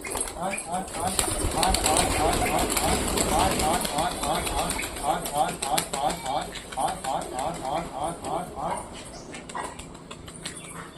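Domestic pigeons coo in a repeated, rhythmic chorus close by during feeding, with wing flutters and rustling, under a steady noisy background.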